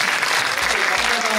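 Audience clapping at a Hong Kong film premiere, dense sustained applause filling the room while a voice talks over it.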